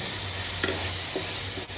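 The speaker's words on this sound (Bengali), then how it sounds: "এটা এদিকে ভাজা হোক" Food sizzles steadily in a hot pan, seasoned with black pepper and salt for a Bengali breakfast. The sizzle is close and continuous, with a few soft stirring taps and no talk.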